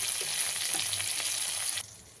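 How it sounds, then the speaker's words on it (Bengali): King prawns frying lightly in oil for a prawn malai curry, a steady close sizzle with faint crackles that cuts off abruptly near the end. "এই জন্য আমি এখানে চিংড়ি মাছগুলো ভেজে নিচ্ছি, একটু হালকা করে ভাজবো।"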